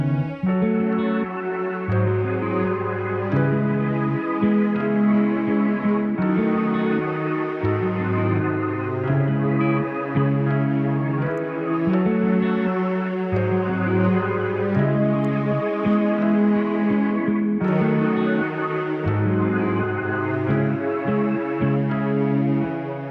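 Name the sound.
layered chorus melodies of a music production remake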